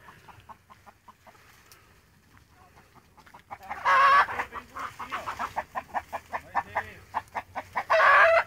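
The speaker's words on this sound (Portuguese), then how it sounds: "A galinha já tava tudo empoleirada, mas quando elas me viram, elas desceram tudo" Chickens in a backyard flock on a small rural property, freshly down from their roost, cluck in a steady rhythmic series close by, with a couple of louder squawks and a brief crow-like call rising above the clucking.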